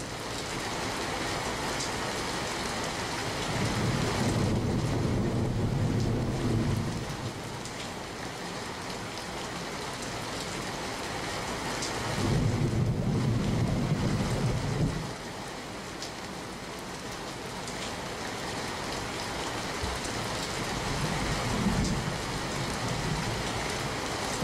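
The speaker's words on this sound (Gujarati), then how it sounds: "કેટલાક વિસ્તારોમાં ધોધમાર તો કેટલાક વિસ્તારોમાં ધીમી ધારે વરસાદ વરસ્યો" Heavy rain pours down over Navsari city in a dense, steady hiss, with a few deeper rumbling swells rising and fading across the stretch and no voices.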